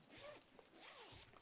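A zipper being drawn open on an Italian leather purse, a quiet close-up rasping pull in two strokes with a short pause between them.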